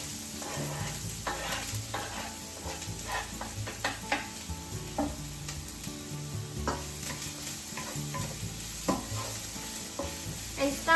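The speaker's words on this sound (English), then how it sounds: "And stir fry them until you start to smell nice flavor." Ginger, garlic and leek sizzling in hot oil while a utensil scrapes and clatters around a frying pan or wok in irregular strokes, close up, with no talking.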